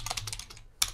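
Short burst of typing on a computer keyboard, a quick run of close, crisp key clicks, a brief pause, then one final sharper keystroke.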